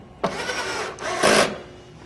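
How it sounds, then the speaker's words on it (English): A power screwdriver drives screws into the plastic corners of a controller housing. Two short, close whirring bursts are separated by a brief pause, with no talk. "we're going to put the 4 screws back in the corners"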